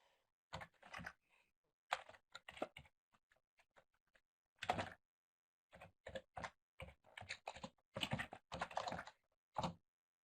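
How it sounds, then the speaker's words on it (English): Typing on a computer keyboard, bursts of quick soft key clicks separated by short pauses, close and quiet, with no voices. "I'm sure you can hear me typing right now"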